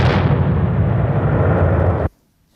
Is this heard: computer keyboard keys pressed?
no